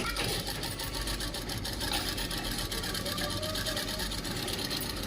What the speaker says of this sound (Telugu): మంచిగా లోపలికనే వేయు కుట్టు.